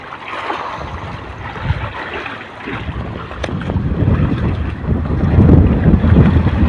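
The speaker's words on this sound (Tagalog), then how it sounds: "Medyo mahangin" Strong wind blows across open sea from a fishing boat out squid fishing, buffeting the microphone with gusty rumbling that swells louder toward the end, waves faintly beneath.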